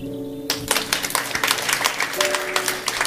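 A church congregation claps their hands together after a sudden start, in dense, uneven bursts with some rhythmic peaks, fairly close, as a voice speaks over the clapping.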